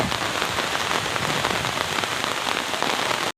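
Steady heavy rain falling on a surface, a dense continuous hiss and patter up close, with no voices, cutting off abruptly at the end.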